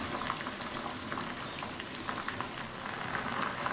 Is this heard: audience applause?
no